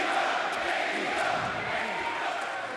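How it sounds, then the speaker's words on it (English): An arena crowd roars and cheers during a Bryan Danielson vs Hangman Adam Page wrestling match at AEW Dynamite Winter is Coming, a sustained, swelling wash of voices from many fans. "Listen to our compassionate crowd here"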